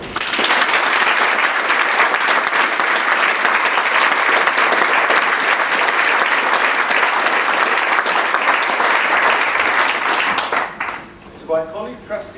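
Loud, dense audience applause at a closing address, sustained evenly for about ten seconds before abruptly cutting off, followed by faint voices.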